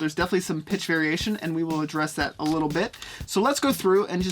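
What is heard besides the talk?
No distinct noise like a dog, phone or traffic.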